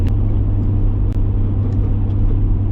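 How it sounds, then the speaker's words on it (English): A 500 hp Nissan Skyline GT-R cruises in fourth gear at about 35 mph, its engine a steady, smooth, close low drone that stays loud and even throughout, with no voices. "we're just cruising in 4th gear at 35 miles an hour, roughly"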